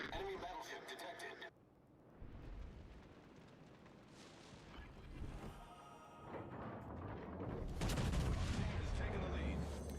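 Booming salvo of a battleship's big guns in World of Warships Legends, a sharp burst opening then rolling blasts and rumbling impacts building louder toward the end, with game sounds layered throughout.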